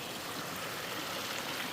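Fast-moving stream water rushes over rocks in a steady, broad hiss, close and continuous with no voices.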